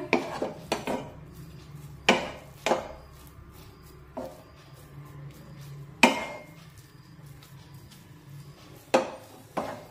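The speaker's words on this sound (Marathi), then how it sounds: "आता हा पिठाचा गोळा 2 मिनिटे चांगलं परतून घेऊया।" A gram flour dough ball is worked around a pan with a metal spatula, sharp scraping knocks and clanks spaced irregularly against a quiet background, close and with no talk.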